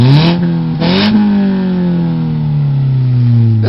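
A 2012 Ford Focus SE with manual gearbox revs loudly up close, its engine note climbing in two quick blips before settling into a long, sustained grumbling drone with no one talking.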